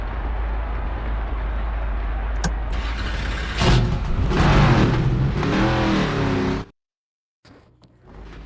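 Race car engine in NASCAR 25 qualifying, leaving pit lane in a video game: a loud, steady engine drone that swells as it revs up through the middle, then cuts out abruptly before a quieter return near the end, with no talking.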